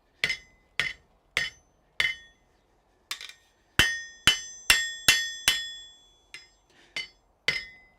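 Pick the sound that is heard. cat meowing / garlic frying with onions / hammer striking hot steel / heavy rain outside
hammer striking hot steel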